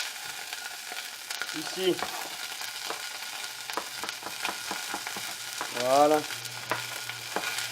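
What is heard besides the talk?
mirepoix of carrots and shallots frying in a pan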